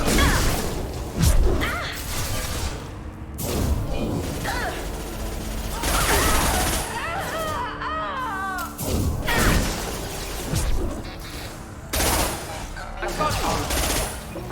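Gunfire in a Mass Effect 2 Legendary Edition firefight: repeated bursts of automatic weapon fire and impacts, loud and dense, mixed with game sounds and faint voices.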